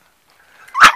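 A Staffordshire bull terrier puppy gives one sharp, close bark after a faint whine, then falls quiet.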